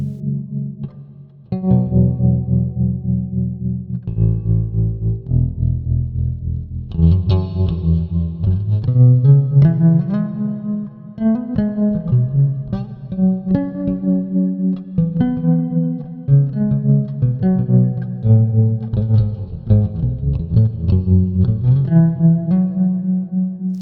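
Bass guitar notes played through a swirling modulation effect, with a wavering chorus-like shimmer and some grit, phrased melodically with short gaps.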